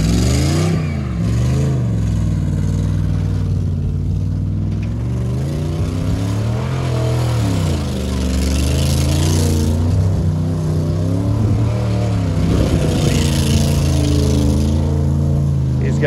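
Ford F-150 pickup truck engine revving hard through a burnout, loud and close, its pitch rising and falling in repeated surges over a continuous roar.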